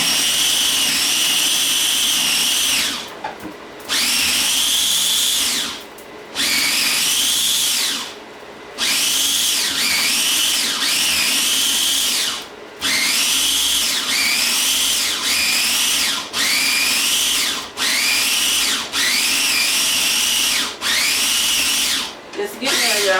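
A countertop blender grinds spaghetti sauce ingredients with its lid on, running in loud, whining bursts that stop and restart about ten times, with brief pauses between pulses.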